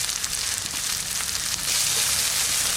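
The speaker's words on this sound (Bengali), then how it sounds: "পেঁয়াজটা ভাজা ভাজা হয়ে গেছে" Chopped onion with a pinch of salt frying in a pan during a village-style stingray curry cook, giving a steady, close, loud sizzle and crackle with no talking.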